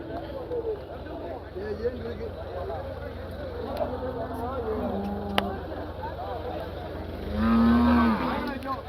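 A buffalo among cattle lets out a loud, deep, drawn-out moo near the end, while people chatter steadily in the background.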